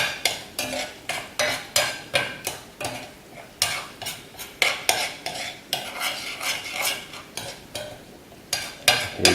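A utensil scrapes and clinks rhythmically in a pan as Nyonya tamarind fish curry gravy fries in separating oil, with a soft sizzle beneath the repeated close stirring strokes.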